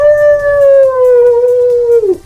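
A person imitates a howl late at night at a furry convention, one loud sustained wavering tone that slowly falls in pitch before breaking off, close and alone.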